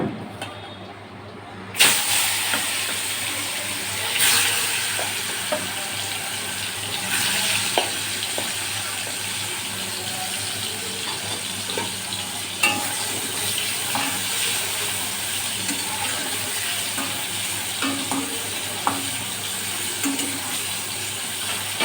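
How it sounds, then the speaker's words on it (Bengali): Pieces of bitter gourd frying in a pan, a steady hiss and sizzle running throughout after a sharp start, with occasional stirring clinks and scrapes and no talking. "উচ্ছেগুলো এবার লাল করে ভেজে নেব।"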